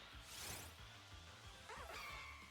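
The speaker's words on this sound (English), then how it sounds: "Also, my dog is yapping." A pet dog yaps in a few short, sharp bursts at close range, with steady background sound running underneath.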